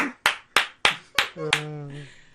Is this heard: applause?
yes